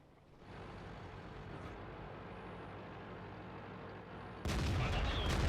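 Tank cannon fire from the World of Tanks video game, with a continuous engine rumble under the clip and a loud, sharp blast near the end.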